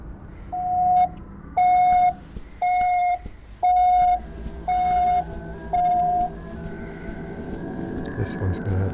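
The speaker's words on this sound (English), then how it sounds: "You know this has a car alarm." A car alarm in a video game blares a repeating electronic tone in six evenly spaced, loud pulses, then stops, leaving faint ambient background.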